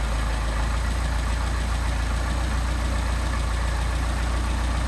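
A Mercedes 190SL engine with Solex carburetors idles steadily, a continuous low, even running sound held close and loud with no speech.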